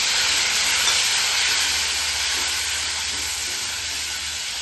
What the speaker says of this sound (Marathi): आता आलं लसूण पेस्ट टाकते मी.